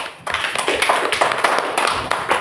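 A classroom of students claps for a student discussion group during an Islamic religious education lesson, a short burst of quick, uneven hand claps, close and fairly loud, following a brief quiet moment.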